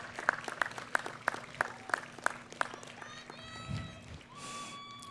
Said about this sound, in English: Now give them a round of applause and appreciation for all they have done to support you